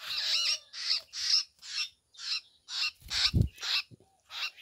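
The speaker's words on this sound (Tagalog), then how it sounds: "Ito na po yung alaga kong kulito guys, oh." A pet coleto bird gives a string of about ten harsh, evenly spaced squawks, loud and close, with a brief low thump partway through.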